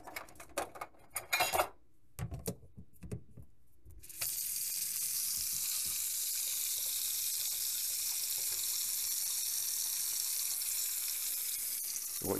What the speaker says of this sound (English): And let the sink drain all at once.